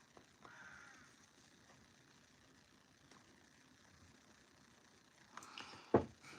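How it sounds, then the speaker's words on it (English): Birds call outdoors, with a few faint, distant caws over quiet background noise, followed by louder nearby knocking and clatter near the end. "You can hear the birds outside, can't you?"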